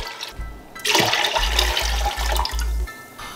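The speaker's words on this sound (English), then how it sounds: "I'm adding some more water in the pan as well." Water pours loudly into a pan while a sorrel drink is being made, a steady close gushing and splashing that lasts about two seconds, under a low background hum.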